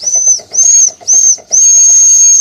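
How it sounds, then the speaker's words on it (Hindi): Whistle of an old small coal- and wood-fired steam locomotive, three short loud shrill blasts followed by one long sustained blast, close and alone. "ट्रेन की जो पुरानी सीटी है,"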